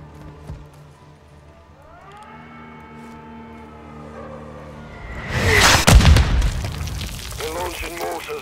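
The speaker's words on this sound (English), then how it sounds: "They're launching mortars." Mortar fire in the Modern Warfare II campaign: after a quiet stretch with a rising siren-like tone, a heavy, loud explosion bursts midway and its rumble and debris trail off, with voices speaking.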